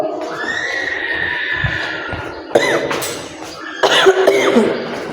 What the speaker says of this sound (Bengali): কাশিটা ভালোই হচ্ছে না